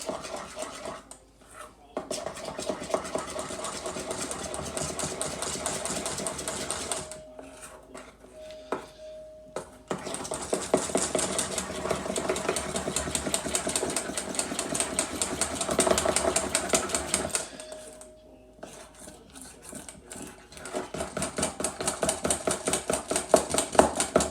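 A peanut butter fudge mixture is stirred in a bowl with rapid, rhythmic scraping and clicking strokes, paused briefly a few times before the mixing resumes at a steady pace.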